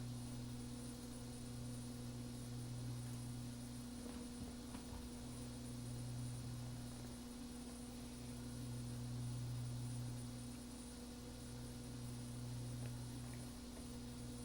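Steady droning hum of a King Air 200 twin turboprop on its takeoff run from runway 20, strong low tones pulsing slowly and evenly throughout, loud and close as from inside the cabin, with no talk.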